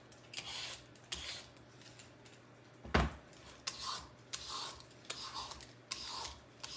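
Butternut squash being peeled by hand over a small prep bowl, giving repeated short rasping scrapes in an uneven rhythm, close and fairly quiet, with one sharper knock partway through.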